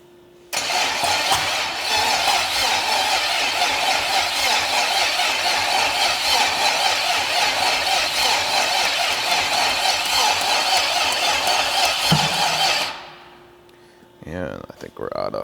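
A rebuilt Buick Straight 8 engine on a test stand fires up and runs loud and steady at a rough idle for about twelve seconds, then cuts out abruptly into quiet, with a few faint sounds afterward.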